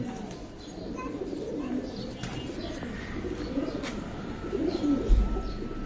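Giribaj and high flyer pigeons coo softly and repeatedly nearby in a low, rolling murmur, with faint chirps and a brief bump or flutter near the end.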